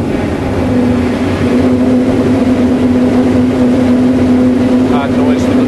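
Aero-profile roof bar in a wind tunnel producing a loud, continuous droning wind noise with a steady low hum throughout, close and unbroken.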